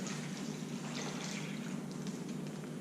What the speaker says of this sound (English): And then we're going to fill the baggie up with the water.